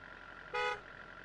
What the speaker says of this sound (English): Honk.